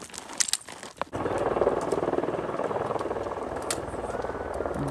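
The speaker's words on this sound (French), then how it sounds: "L'hélico qui se pose dans un endroit improbable." A helicopter lands on a rough mountain trail during a Corsican ultra-trail race, its steady loud rotor thrum and engine roar rising abruptly after a second of wind and rustling and then holding close.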